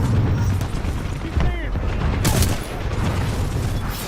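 Amped weapon fire in the shooter game Titanfall 2 crackles in a dense burst of shots and booms, loud and close, with layered in-game effects and sweeping electronic tones over a rumbling low end.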